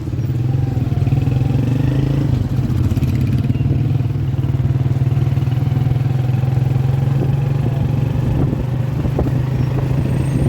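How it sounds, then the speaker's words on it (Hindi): A motorcycle ride in Pakistan: a steady, loud low engine drone with a clattering pulse continues unbroken throughout, with light road rumble and no talking. "बाइक का मज़ा लें भाई बशत पाक में।"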